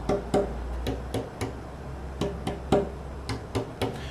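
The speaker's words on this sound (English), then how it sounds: "We'll be tapping to ascertain how thick to make the braces." Knuckle taps knock on a spruce archtop guitar top during brace tuning, a dozen or so short, irregular hollow raps, close and fairly quiet, with nothing else heard.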